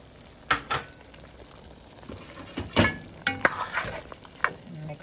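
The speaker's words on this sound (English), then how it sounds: "Now let me add some of the fresh seasoning to it. The seasoned peppers, onions, and garlic." Seasoned peppers, onions and garlic frying in a pan give a soft sizzle while being stirred, with several sharp scraping and clinking strikes of a utensil against the pan, close and without talk.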